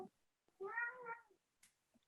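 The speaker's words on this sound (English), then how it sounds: "Sorry, my cat is yelling at me." A pet cat lets out a loud, drawn-out meow near the microphone, followed by a few faint, short sounds in an otherwise quiet room.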